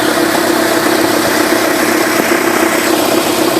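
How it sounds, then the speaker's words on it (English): A Nissan Versa engine runs close up at a steady idle with a loud, dense mechanical clatter from a loose drive belt, an unbroken rattling buzz with no pauses and no talk. "I got a tighter belt on there, but it's still rattling around a little too much"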